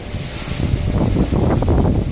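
Strong wind blows outdoors after dark, buffeting the microphone with a loud, continuous low rumble and gusty surges, no one speaking.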